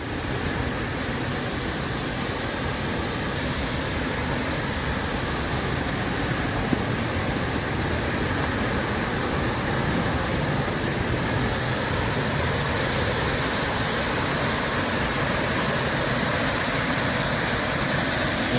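Doane's Falls in Massachusetts runs at high water volume, a steady, loud, close broadband roar of rushing and spraying water that stays constant from start to finish with no voices.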